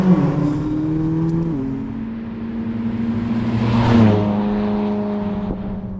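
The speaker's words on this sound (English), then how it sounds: "is the increase in the sounds of the whistling in the front of the car." A McLaren 570S Spider drives along with a steady engine drone that steps up and down through gear changes, while a faint whistle from the front of the car rises with speed; no voices.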